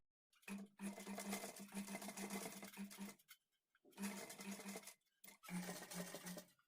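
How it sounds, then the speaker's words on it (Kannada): Sewing machine stitching piping along a blouse neckline, three loud mechanical running bursts of rapid stitching separated by short pauses, close up with no voices. "ನಾವೇನ್ ಮೊದಲು ಸ್ಟಿಚ್ ಮಾಡ್ಕೊಂಡಿರ್ತೀವೋ ಅದ್ರ ಮೇಲೆನೆ ಸ್ಟಿಚ್ ಮಾಡ್ಕೊಳ್ತಾ ಬರಬೇಕು"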